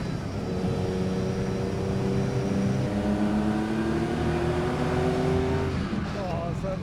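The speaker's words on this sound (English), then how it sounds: "it's a very familiar straight six sound from the 3-litre engine up front" A 1954 Aston Martin DB2/4 with a 3-litre straight-six engine drones steadily at close range, its pitch climbing through gear changes as it runs on a test track, with engine noise filling the whole span.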